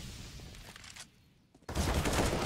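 A USP pistol fires in a Counter-Strike match. After a brief lull, a dense burst of gunshots breaks out and carries on loudly to the end.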